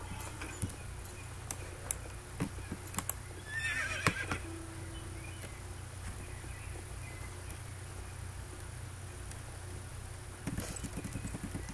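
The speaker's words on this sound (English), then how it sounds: "So we're just gonna run around with this horse a little bit." A horse in the Star Stable game runs with steady soft hoofbeats under a quiet outdoor ambience, giving one clear neigh midway, with occasional clicks and faint chirps around it.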